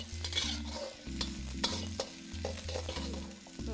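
Carrots and red and green bell peppers are stirred and tossed in a hot pan for Szechuan beef, with a steady close sizzle and repeated scraping stirs and no talking.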